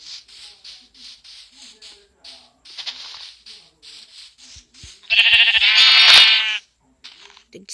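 Sheep bleat in a video game set in a new world. Short, clipped synthetic cries repeat in a steady run, and then a louder, longer bleat stands out near the end.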